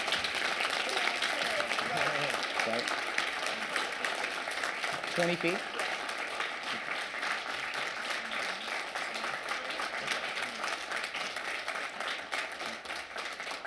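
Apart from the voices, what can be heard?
audience applause for speaker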